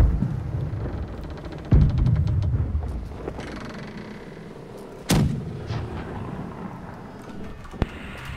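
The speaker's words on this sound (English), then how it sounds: "Cannon is sure. Ready to fire!" Heavy ship cannon blasts in a video game boom out one after another, each with a rumbling tail, followed by a sharp crack near the end.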